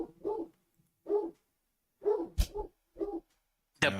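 A puppy barks in five or six short yappy bursts spaced about a second apart, close and clear against a quiet background.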